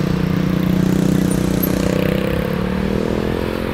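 Engine of an older Honda Vario 125 automatic scooter while riding, a steady close drone with a fairly even, continuous pitch and road noise, no voices.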